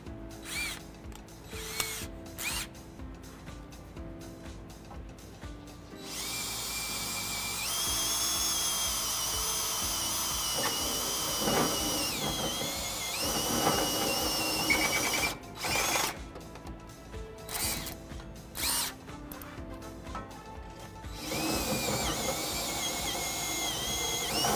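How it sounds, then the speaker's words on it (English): Power drill with a reamer bit enlarging a pilot hole to half an inch while fitting a front-mount trailer hitch on a 2016 Ram 1500, several bursts of whirring, grinding drilling separated by short pauses and clicks. "We'll go to our reamer bit."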